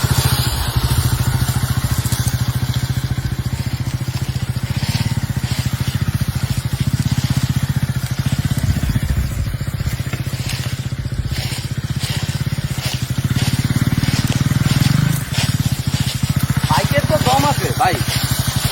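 2025 KTM 250 Adventure motorcycle riding off-road over a slippery, broken road, its engine a steady, close drone that carries through the whole ride while a rider talks over it.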